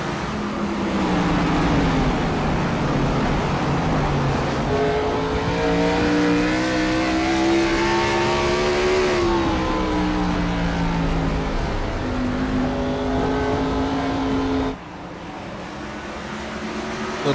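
Race cars of the Freedom Racing Series lapping Nashville Fairgrounds Speedway, several engines droning and rising in pitch together as they chase bumper to bumper, loud and continuous, with a brief drop in level near the end.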